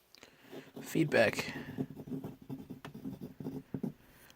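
Wing Sung 235 vintage fountain pen with an extra fine nib scratching across paper in close, continuous strokes, with a brief louder burst near the start and a slightly scratchy texture throughout.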